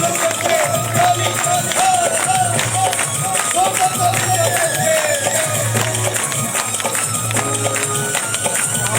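A congregation claps steadily in rhythm at a church good news festival in Karachi, the crowd's clapping running under amplified voices and music throughout.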